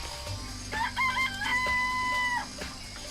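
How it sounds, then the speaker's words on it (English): Chickens in a chicken coop in Danganronpa cluck and crow, a clear, drawn-out crowing call rising above a low in-game background hum. "I remember there were some chickens in the chicken coop"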